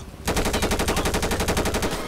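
A loud, steady burst of rapid automatic gunfire in GTA V during a police raid on a favela square, close and continuous for nearly two seconds with no talk.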